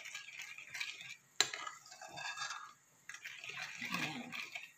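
Lemon being mixed into a ketchup and soy sauce for oven-baked lamb: soft, wet stirring and light clinks of a utensil in a bowl, quiet and close with brief pauses.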